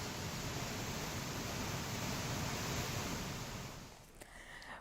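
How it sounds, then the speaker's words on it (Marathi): Floodwater rushing through a temple during heavy rain, a dense continuous roar of torrential flow, loud and unbroken, easing slightly near the end with a few knocks. "पाण्याचा मोठा प्रवाह आता मंदिरातून जातानाची ही दृश्य समोर आलेली आहेत"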